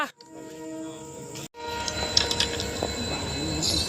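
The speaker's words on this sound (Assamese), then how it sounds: "আৰু এখন ট্ৰেইন আহিছে" An approaching train rumbles steadily, with a horn-like tone near the start and wheel and carriage noise building and clattering toward the end.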